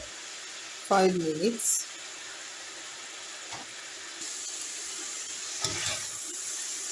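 Samosa filling cooks in a pan with a steady, even sizzle and hiss running throughout, while a voice speaks briefly over it.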